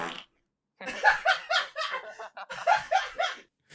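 Voices imitate a fart with a short, blubbery mouth sound that dissolves into snickering and chuckling laughter, then the fart mimicry and giggles come back in a second burst.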